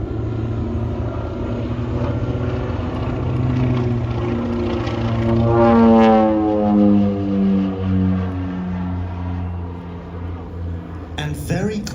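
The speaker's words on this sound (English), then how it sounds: "the Bronco can't go that slow" An OV-10 Bronco flies at an air show in Leszno, its loud, steady propeller drone holding throughout, with the tone sweeping in pitch midway as it passes.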